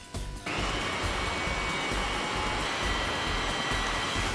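A Huck 940 power rig riveting tool cycles with a sudden loud, steady hydraulic whoosh and hum that starts after a short moment of quieter sound and holds continuously.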